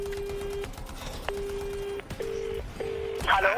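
Keypad tones on a telephone dialing a call: a series of steady beeps of varying length with short gaps between them, close and clear, followed by a brief warbling ring tone at the end, with no talk.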